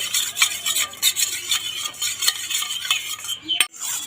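A spoon stirs a saffron and oil mixture in a small bowl, with repeated quick scraping and clinking strokes in an even rhythm, close and clear, with no talking.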